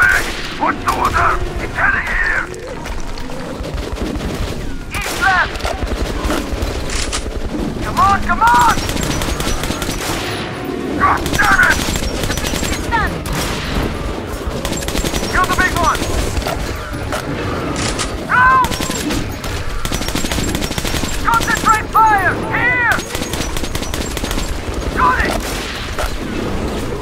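Heavy gunfire in the video game Metro: Last Light Redux: loud bursts of machine-gun fire and single shots with booms and clanks, continuous and close, mixed with game music and shouted voices.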